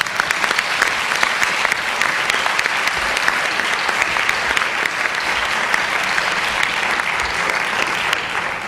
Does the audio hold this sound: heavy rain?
no